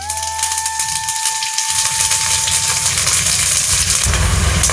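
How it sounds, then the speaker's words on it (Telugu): A spoonful of ghee sizzles and spits in a hot pan for a kabuli chickpea curry, a steady close crackling hiss that grows busier and louder toward the end. "అలాగే మనం టేస్టీ కోసం ఒక స్పూన్ నెయ్యి వేసుకుందాం."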